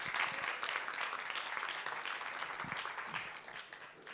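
Audience at a social media bootcamp event applauding, a steady, even wash of many hands clapping, moderately distant and fairly faint, continuing throughout without speech.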